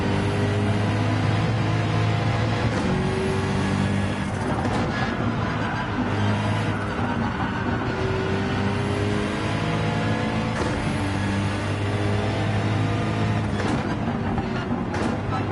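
Race cars roar through traffic at Watkins Glen in Gran Turismo 7, a loud, continuous blend of engines revving and accelerating close by, with no voices.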